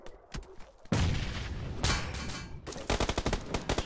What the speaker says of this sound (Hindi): पड़ी उसको एक शॉट, बट बॉडी पे पड़ी वो